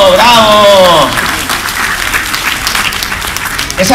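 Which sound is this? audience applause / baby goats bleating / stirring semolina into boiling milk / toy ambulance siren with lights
audience applause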